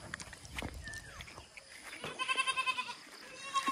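A goat bleats in a wavering, pulsing cry near the end, preceded by scattered soft farmyard knocks and rustles.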